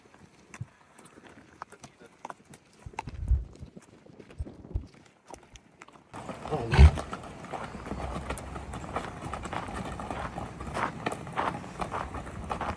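Hooves clip-clop as a horse shifts about while a man tries to climb onto it, quiet at first and then louder and busier amid general outdoor noise.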